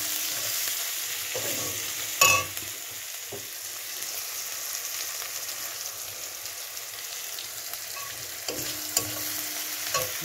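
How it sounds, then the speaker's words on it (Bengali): Masala with ginger and garlic frying in a pan for a fish curry with cauliflower, giving a steady close sizzle, with a few sharp clinks of a utensil stirring against the pan. "আদা রসুন দিয়ে ভালো করে মশলাটাকে কষাবো।"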